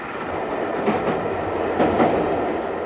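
A train runs along the scenic Kyle of Lochalsh railway in summer, a steady close rumble with a few rhythmic clickety-clack wheel beats over rail joints.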